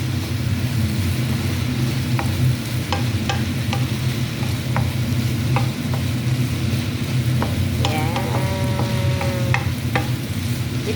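Meatballs and vegetables in tomato sauce are stirred in a pan over a steady close simmering sizzle. A spoon scrapes and clicks now and then, and a brief voice is heard near the end.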